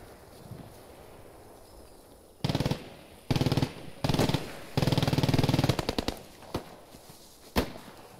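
Machine gun fire in the World War II shooter Post Scriptum, several loud close bursts of rapid shots separated by pauses, then a few scattered single shots over low background noise.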